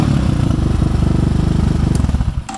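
Crossfire CFR250 2019 motorcycle, a 250cc water-cooled bike, runs steadily through its exhaust with a loud, even burbling rumble close by, no talk over it.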